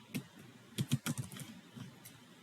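Typing on a computer keyboard to enter a search title, with a quick irregular run of crisp key clicks clustered in the middle and a few scattered taps after, close and clear.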